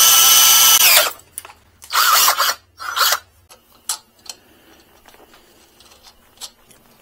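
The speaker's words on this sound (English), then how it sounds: "I gotta drill this out." Power drill drilling out a part inside a micro van, a few loud whirring bursts of about a second each, followed by quieter scraping and tapping.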